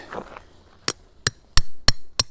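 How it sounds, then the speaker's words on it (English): Five sharp, evenly spaced hammer strikes drive a tent peg into hard ground, loud and close, with a metallic crack on each blow and a faint rustle beforehand. "we can hammer the peg in."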